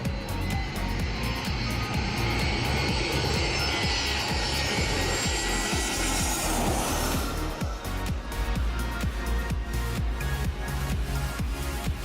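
An aircraft passes low overhead at Phuket Airport, its engine roar swelling to a loud peak and then fading away, with a rhythmic thumping near the ground throughout.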